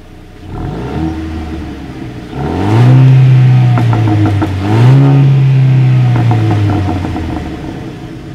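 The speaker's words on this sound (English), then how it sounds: "As always, here is that exhaust clip." Single-exhaust 2019 Jeep Renegade revved twice in quick succession, loud and close, engine rising to a strong roar each time and settling back to a steady idle between and after, with no talk.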